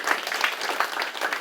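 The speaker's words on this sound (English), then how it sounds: "So I think Mr. Garrison deserves a round of applause for everything he does for our" Audience at an automotive ASE certification ceremony clapping for Mr. Garrison, a brief, even burst of applause from a room of people, fairly close.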